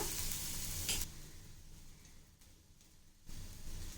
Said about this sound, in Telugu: ఉల్లిపాయలు వేసుకొని వేపుకోవాలి బాగా అలాగే పచ్చిమిర్చి కూడా